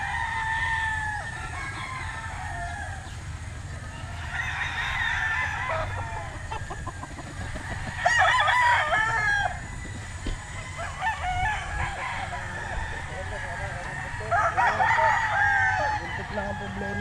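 Gamefowl roosters crow repeatedly at a game farm, several loud, drawn-out calls spaced a few seconds apart over a constant low background murmur.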